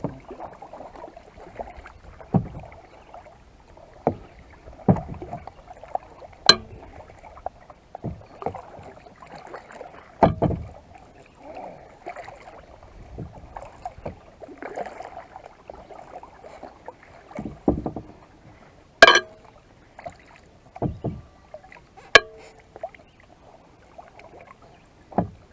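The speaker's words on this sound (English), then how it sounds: "If you're paddling backwards like this, and then you can pull forward," An Old Town Vapor 10 Angler kayak being paddled on open water, with irregular soft splashes and paddle knocks at uneven intervals, a few sharper clacks standing out over faint wind.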